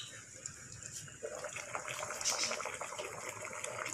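Tulingan fish wrapped in banana leaf simmering in a pot, a steady bubbling, watery boil that grows a little stronger partway through, close by with no talk.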